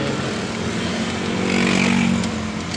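A motorcycle engine keeps running after the ignition key is pulled out because of an ignition switch wiring short, a close, steady idle that swells slightly midway.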